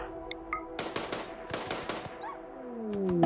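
A volley of gunfire in the video game RimWorld: several sharp shots in a loose cluster, some overlapping, fairly quiet against a low game background that rises slightly toward the end.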